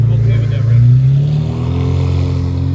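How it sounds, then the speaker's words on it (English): Mazda Miata engine giving a short, mild rev, a steady low hum that swells and rises in pitch, then settles back to a close idle drone. "Like, that was like a little rev."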